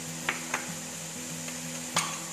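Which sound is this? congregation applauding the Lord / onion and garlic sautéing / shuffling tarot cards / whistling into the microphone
onion and garlic sautéing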